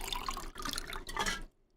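Water splashes and spills in short bursts in the video game Black Mesa, a close, liquid pouring and dripping sound lasting about a second and a half before cutting to near silence.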